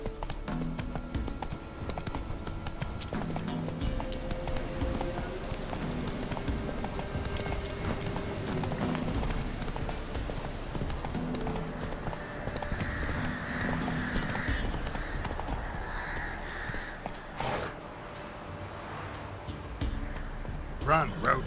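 Roach gallops across The Witcher 3 with fast, rhythmic clip-clop hoofbeats lasting throughout, mixed with voices and a brief whinny.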